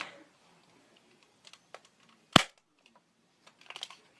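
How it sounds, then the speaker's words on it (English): A Stinger P311 spring airsoft pistol fires once with a single sharp snap, set amid faint clicks and handling noises before and after. "You have a primed Airsoft gun."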